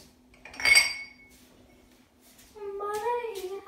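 Drinking glass taken out in a kitchen, a single sharp glassy clink up close, followed by someone speaking.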